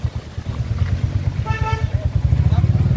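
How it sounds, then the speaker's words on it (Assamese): A Royal Enfield Bullet motorcycle engine thumps close by in a steady, rhythmic putter, with a brief horn toot in the middle, on a ride in Meghalaya. "মই এবাৰ বুলেটখন চলাই আছোঁ"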